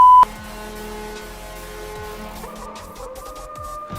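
The Arizona Coyotes NHL goal horn blares during a goal horn quiz, a sustained loud horn tone with busy arena crowd noise and music churning underneath, no talking.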